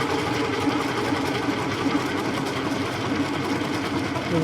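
A bowling ball spins in a rotating bowling ball cup, giving a steady, close whirring rumble with a faint rhythmic rattle that holds even throughout.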